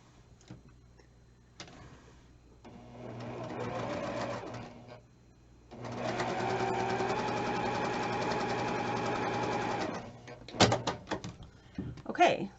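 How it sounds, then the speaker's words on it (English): A sewing machine stitches a quilting piece diagonally from corner to corner, running in two steady buzzing bursts with a short pause between, followed by light handling clatter. "take this over to your sewing machine and sew from corner to"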